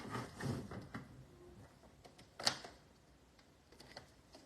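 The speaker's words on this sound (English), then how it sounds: "So then I'm gonna cut down this designer series paper" Designer series paper being trimmed on a paper cutter for a card front: a few soft sliding swishes and a sharp cutting snap in the middle, close and quiet in a still room.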